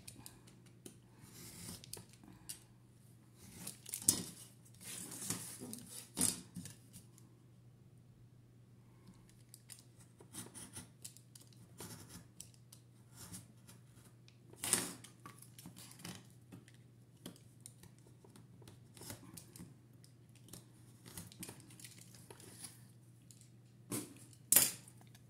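Scissors snipping paper for a handmade album, scattered sharp little cuts and clicks over a steady low hum, close and quiet with no one talking.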